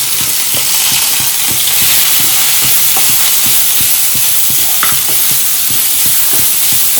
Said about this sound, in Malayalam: ഒരു മിനിറ്റ് ഒന്ന് വഴറ്റുക.